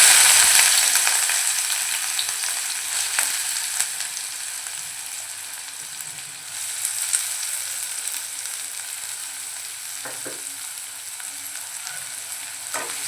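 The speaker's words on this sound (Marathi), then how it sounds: "आता आपण जो कांद्याची पात चिरून घेतले त्यातला व्हाईट पाट आपल्याला तेलामध्ये सोडायचा आहे" Chopped white parts of spring onion sizzling in a ladleful of hot oil, a loud crackling hiss at first that settles to a steadier fry, with occasional stirring clicks.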